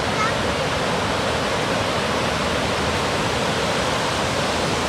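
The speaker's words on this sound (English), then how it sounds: "See, there's the waterfalls right there." A waterfall plunging into a river roars as a loud, constant broadband rush of falling water, steady from start to finish and filling the whole scene.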